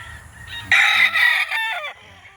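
A rooster crows loudly and close by, a long drawn-out call, with hens clucking softly around it, at a Sunday chicken market in Calauan, Laguna.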